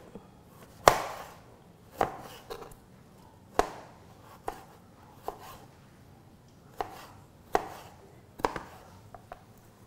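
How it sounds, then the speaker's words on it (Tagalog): A knife slices a peeled vegetable stem thinly on a board, about ten crisp, separate cuts at an uneven pace, close and clear, with no talk. "And then you slice the stem thinly, as thin as you can get."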